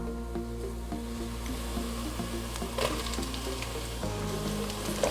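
Tomatoes sauté in hot oil in a pan for Donne chicken biryani, giving a steady, close sizzle and crackle throughout with faint stirring scrapes and no talking.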